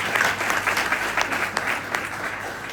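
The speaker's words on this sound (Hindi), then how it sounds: "बार उनके लिए जोरदार तालियां चाहिए" Enthusiastic audience applause at a motivational seminar, a crowd clapping hard and steadily with sharp individual claps standing out, fairly close and uninterrupted.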